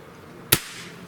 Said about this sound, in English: I'm going to shoot 3 shots without the suppressor, then I'm gonna throw the suppressor on for the last two.